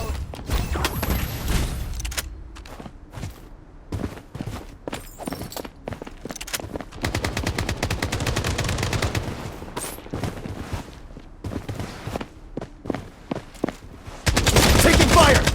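Rapid bursts of gunfire from the video game Bloodstrike, a battle-royale shooter, crack out in dense volleys with short gaps between, loud and close, ending in a sustained heavy burst.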